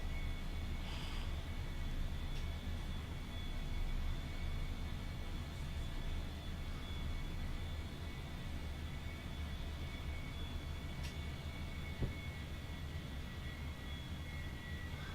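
An A-4E-C jet in the DCS flight simulator runs under throttle, a steady broadband engine roar with a faint high whine holding constant, joined by a few brief clicks, and no talking.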